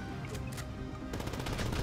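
Gunfire in Grand Theft Auto V Online, rapid bursts of shots, fairly quiet, alone with no talk.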